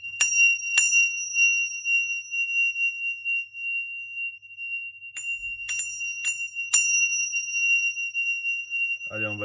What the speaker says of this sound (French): je vais faire le son des cloches